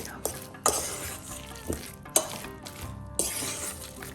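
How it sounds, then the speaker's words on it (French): A utensil stirs and scrapes tuna brik filling seasoned with cinnamon in a sizzling pan, with sharp metallic clinks at uneven intervals over a frying hiss. "Et on continue à bien mélanger"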